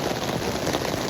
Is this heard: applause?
no